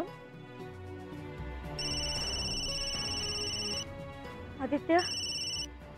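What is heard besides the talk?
phone ringing for an incoming call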